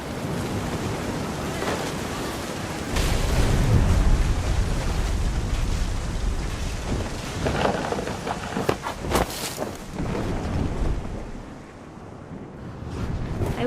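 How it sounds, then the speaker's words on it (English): Deep, rolling thunder in the video game What Remains of Edith Finch, rumbling loudly over a constant roar of wind and sea, with sharper cracks in the middle before it eases, then swells again. "The thunder sounded much too close and full of angry power."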